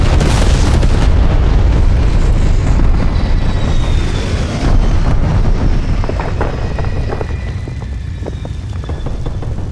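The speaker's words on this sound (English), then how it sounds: "Enemy napalm strike incoming." Napalm strike explosions in Call of Duty: Black Ops Cold War, a loud, heavy roaring boom that rumbles continuously and slowly fades with faint high whines drifting over it.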